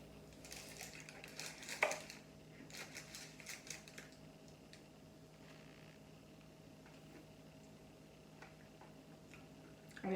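A knife cutting a slice of baked Weet-Bix slice, light rapid tapping and scraping clicks against a tray or board in the first few seconds, quiet and close, then fading to faint scattered ticks.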